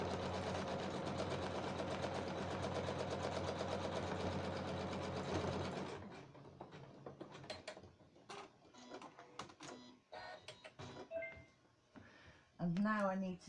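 An embroidery sewing machine stitches an outline in white thread, a loud steady rapid whirring hum for about six seconds, then stops and leaves scattered clicks and handling noises while a person talks.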